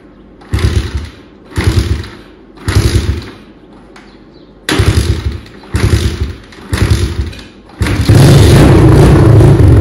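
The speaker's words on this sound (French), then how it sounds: "moteur Kawasaki, ça démarre tout le temps. Démarre, 3e coup de kick maximum." A cold Kawasaki motorcycle engine is kick-started several times in a row, each attempt a short rumbling burst, until it catches and settles into a steady loud idle.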